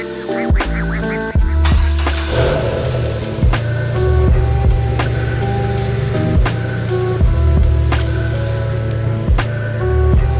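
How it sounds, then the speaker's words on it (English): A Dodge SRT-4 car engine cranks briefly, catches and settles into a steady, close idle with a regular low hum and periodic ticking clicks. "I'm going to go ahead and start the car up, let it idle for a little bit"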